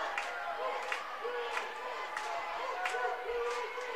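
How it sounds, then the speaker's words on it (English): Powell High School fans in the stands at a 3A West Regional third-place match chant PHS, rhythmic shouted bursts repeating every half second or so from a crowd at moderate distance. "Starting there up with PHS chant for Powell High School"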